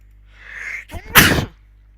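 A single close sneeze: a short breathy intake, then a sharp explosive burst, with no other sound around it.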